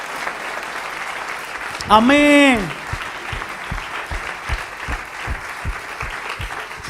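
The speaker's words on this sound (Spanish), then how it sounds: "Denle un aplauso al Señor bien fuerte" A church congregation applauding for the Lord in rhythmic, steady claps, with a loud, brief, high shouted cry near the start rising over the crowd and people speaking.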